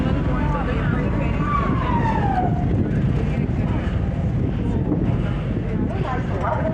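A BC Ferries vessel sails toward Vancouver Island, with a constant broadband rumble of engine and wind noise throughout and a faint descending tonal whine early on.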